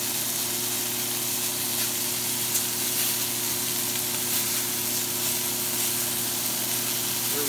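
Bear chops fry in a pan with a steady, close sizzle and crackle, a constant hissing bed with a faint low hum beneath and no talking.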